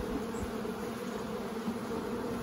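A low, even drone of honey bees hovers around a long hive, a continuous steady buzz of moderate loudness throughout.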